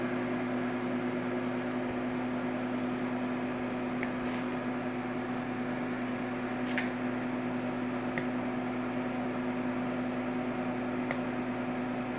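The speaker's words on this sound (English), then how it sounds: "When it gets down to 35 seconds, you'll hear the tone change so the microwave kicks on." A convection microwave oven hums steadily at close range, with a constant low drone and a few faint clicks scattered over its running.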